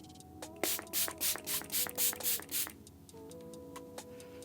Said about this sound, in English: That was a really nice spray too.